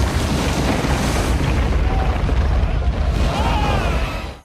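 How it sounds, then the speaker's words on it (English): Explosion triggering an avalanche in the animated film Mulan, a loud sustained rumbling roar that fills the whole stretch and then cuts off abruptly. "The explosion triggers a massive avalanche that wipes out the entire army."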